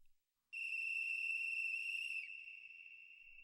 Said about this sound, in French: Ce sifflet.